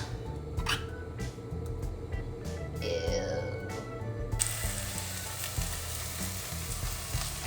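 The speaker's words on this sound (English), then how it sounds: "Mushrooms. Heat on the stove, stirring occasionally." Mushrooms for a creamy mushroom soup heating in a pan on a stove, occasionally stirred: a close, continuous sizzle that suddenly swells louder partway through, with a few clicks and scrapes.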